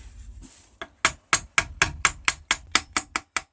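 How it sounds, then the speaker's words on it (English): A ball peen hammer taps the end of a hand-forged steel dagger in a quick, even series of about a dozen sharp, ringing strikes, close up after a brief quiet start. "I'll be using the ball peen hammer and gently hammering the end"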